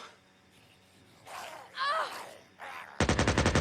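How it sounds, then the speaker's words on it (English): A short burst of rapid, loud gunfire at the end, following breathy groans and muffled sounds, in the video game Days Gone. "you start to hear a lot of gunfire"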